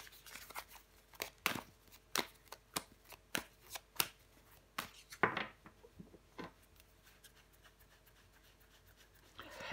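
Tarot cards being shuffled and laid down: a run of crisp, close card snaps and flicks at an irregular quick pace, fading into softer handling and quiet rustling.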